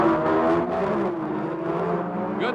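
Drag race cars launch at the 1975 NHRA World Finals, a six-cylinder Ford Pinto against a heavy V8, their engines roaring loud and steady with rising harmonic whine as they pull away together.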